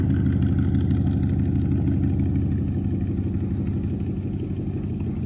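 A pickup truck on 35-inch tires rolls along with a steady, loud low engine drone and tire rumble, even and unbroken throughout.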